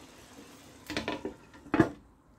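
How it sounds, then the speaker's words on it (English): Beef jollof rice stirred in a pot: a few close clinks and scrapes of a spoon against the pot in a short burst, then one louder knock, over a quiet background with no talking. "Stir it a little bit"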